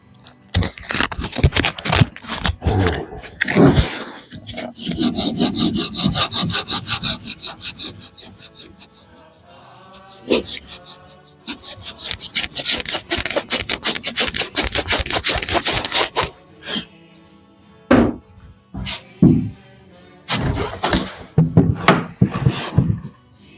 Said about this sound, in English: I see a spot needs sanded down a touch.